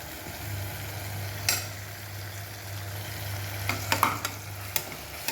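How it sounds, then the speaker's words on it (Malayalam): Onion, tomato and ginger-garlic paste stirred in a pan: a soft continuous sizzle with a low hum beneath, punctuated by several quick scraping clicks of a spoon against the pan, clustering toward the end. "നന്നായി ഇളക്കി കൊടുക്കുക."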